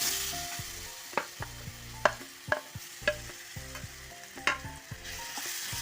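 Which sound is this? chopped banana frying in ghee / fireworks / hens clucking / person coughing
chopped banana frying in ghee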